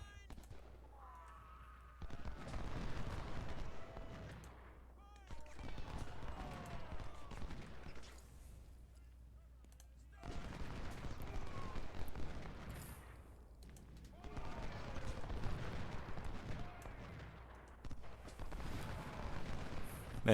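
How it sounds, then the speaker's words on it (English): Musket and artillery volleys from a Union campaign battle at Logan's Crossroads in Ultimate General: Civil War come in rolling bursts of crackling gunfire and deep booms with short pauses between them, moderately distant, while someone talks over much of it. "They're just firing into them."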